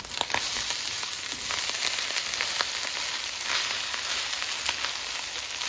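Rice being stirred and fried in a pan for American-style fried rice, a steady bright sizzle with faint scraping taps of the spoon throughout, close and continuous with no talking.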